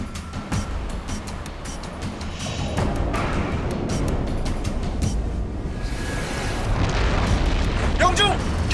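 A submarine firing a torpedo that strikes and sinks a ship, heard as a deep, sustained rumbling boom that swells and carries on under a dramatic soundtrack, with voices speaking over it.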